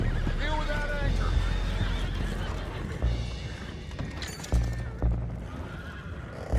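Horses neigh and whinny repeatedly below deck on a boat in Red Dead Redemption 2, shrill calls rising over hooves clattering on wooden planks, with bursts of commotion and some talking mixed in.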